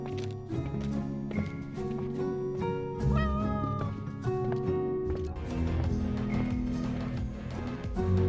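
In the mobile battle game Honor of Kings, during an esports tournament broadcast, a cartoonish cat meows repeatedly among dense game music and effects. The meows are steady and loud throughout the mix.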